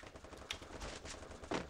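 A few quick, faint gunshots crack in a video game match, spaced out over a moment with no one talking over them.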